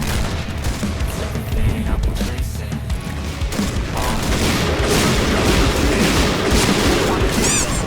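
Gunfire in the Point Blank shooting video game, loud dense bursts of shots and booms running continuously under a busy game soundtrack.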